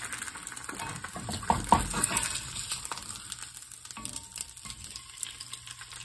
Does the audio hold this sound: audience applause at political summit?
no